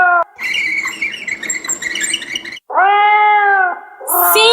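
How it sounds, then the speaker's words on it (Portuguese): A cat meows loudly in a few drawn-out, strongly tonal calls, a long one followed by a cleaner, steadier meow, with a brief higher squeal at the end; no talking. "Sim, um gato."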